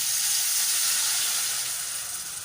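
Ground spices, including coriander powder and sugar, cook in a pan with a little water, giving a steady, close hiss of sizzling that fades slightly toward the end, with no other sounds.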